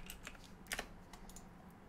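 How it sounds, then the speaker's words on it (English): Quiet typing on a computer keyboard, a short run of soft, irregular key clicks with one slightly louder cluster in the middle. "if I can type"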